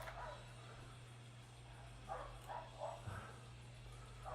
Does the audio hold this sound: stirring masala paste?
no